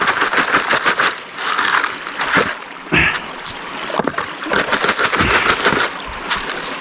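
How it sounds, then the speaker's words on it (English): A bucket being filled with water and gravel from a stream in Wicklow while gold prospecting, producing close, loud splashing and sloshing with scooping bursts and stony rattles, with no speech. "So we're going to get the bucket filled with water first"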